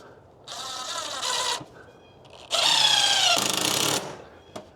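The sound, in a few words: power drill driving painted screws into hurricane screen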